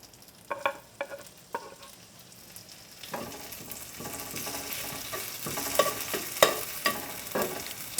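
Kimchi stir-frying in butter in a hot pan, for a grilled cheese. Several sharp spatula taps come first, then a sizzle builds and grows louder, with intermittent scraping and clacks as it is stirred.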